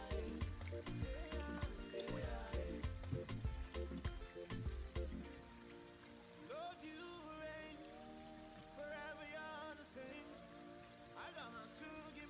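Nigerian puff puff dough balls fry in hot oil with a dense, continuous crackling sizzle, steady throughout, with background music playing along.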